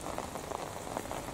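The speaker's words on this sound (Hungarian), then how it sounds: "Ez a kis eső csak áldás, semmi." Soft, steady patter of light rain falling outdoors during a memorial pilgrimage, a faint continuous hiss of drops with no voices.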